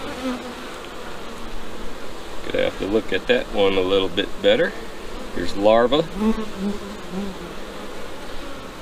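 Honey bees drone steadily around an opened walk-away split hive, their close buzzing continuous throughout while someone talks over it.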